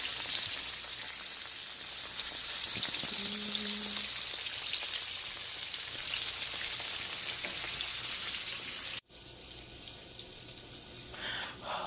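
Green tomato slices fry in a pan, a loud, dense, steady sizzle and crackle up close, briefly interrupted near the end before resuming.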